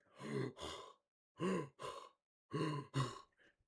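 Heavy breathing in three loud, ragged pairs of breaths, each a rasping inhale and exhale close to the mic, with short pauses between.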